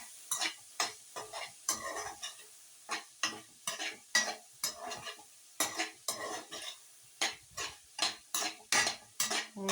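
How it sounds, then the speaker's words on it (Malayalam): A utensil stirs soybeans in hot oil in a pan, scraping and clinking in a steady rhythm of sharp strokes about once a second over a light sizzle. The sound is close and has no talking over it. "നമുക്ക് കുറച്ച് സമയം കൂടി ഈ എണ്ണയിൽ കുറച്ച് സമയം ഇളക്കി കൊടുക്കണം"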